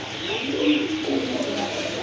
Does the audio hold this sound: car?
no